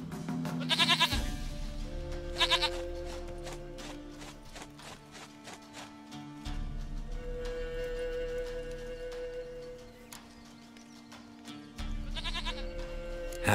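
Repeated goat bleats from The Witcher 3 come in three distinct bursts spaced several seconds apart, fairly close, over a low game ambience with faint hoofbeat-like clopping.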